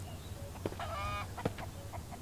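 A chicken in the survival game MIST Survival gives a few short, faint clucks and honking squawks over steady low background hum, with no talking.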